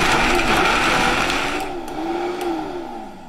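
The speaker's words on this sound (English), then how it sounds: "Now this is going to be loud, it's a Vitamix" A Vitamix blender whirs loudly and steadily as it blends onion, tomato, ginger, garlic, almonds and pepper, its pitch sliding and settling as the mixture thickens, with no talk over it.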